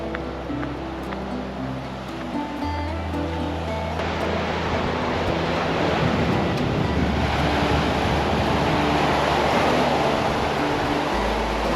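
Surf washing onto a beach in Negros Oriental, a steady broadband roar of breaking waves mixed with wind buffeting the microphone, continuous and fairly loud with no talking.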